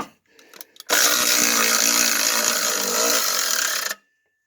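A Craftsman power tool whirs on a bolt in one sustained, loud buzzing run of about three seconds, with a few faint clicks and knocks just before it starts and silence after it stops.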